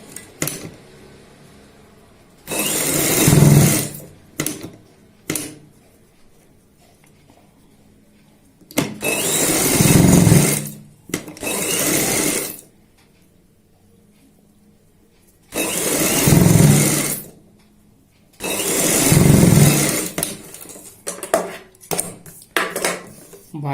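An electric sewing machine stitches a boat neck onto kurti fabric in four loud, sustained bursts of a couple of seconds each, with quiet pauses and small handling clatters between runs.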